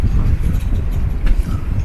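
Strong wind buffets a microphone aboard a boat at anchor, a loud continuous low roar and rumble with gusty swells throughout.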